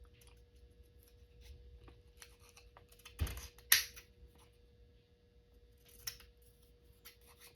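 Scissors snip through stitching on a journal page, a couple of quiet, sharp cuts close by with faint rustling of paper around them.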